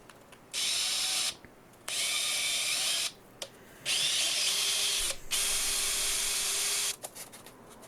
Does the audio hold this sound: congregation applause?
no